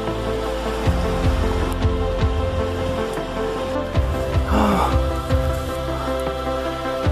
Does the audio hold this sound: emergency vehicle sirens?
no